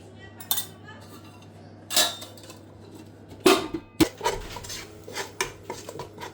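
Potatoes being stirred with turmeric, chilli and coriander powder in a pot for bhungra bateka, with a few loud metal clanks and scrapes of a spoon against the pot between quieter shuffling stirs.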